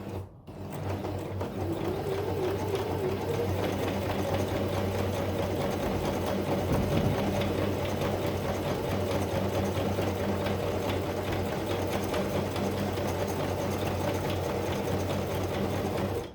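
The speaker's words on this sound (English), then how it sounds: "So I press foot pedal, it will go with the zigzag and we stop at the top mark." A sewing machine with an automatic buttonhole foot stitches a zigzag buttonhole, running at a steady, fast mechanical whir and rattle close by, uninterrupted for the whole stretch.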